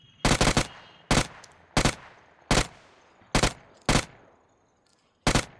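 Sharp, loud gunshots ring out in BGMI, fired as short bursts and single taps in an irregular rhythm with quiet gaps between them.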